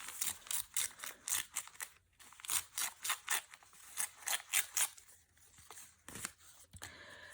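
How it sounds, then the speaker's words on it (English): A narrow strip of paper is torn down the length of a page for crafting flower embellishments, heard as close, rhythmic rasping rips in a run of short bursts, with a brief pause midway and a final tear. No one speaks. "Then we're going to come back and make a more narrow one, and we're going to tear it down"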